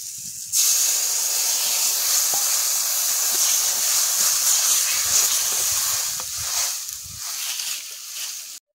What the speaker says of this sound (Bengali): এবার জল ঢেলে দিচ্ছি।